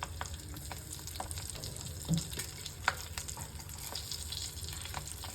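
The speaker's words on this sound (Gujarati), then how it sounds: "હિંગ નાખ્યા પછી આપણે બધા મરચાં અંદર ફ્રાય કરી લઈશું" Green chillies frying in hot oil with asafoetida in a pan, a steady close sizzle with scattered crackles and pops running throughout, with no voices.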